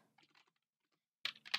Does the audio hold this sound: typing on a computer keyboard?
yes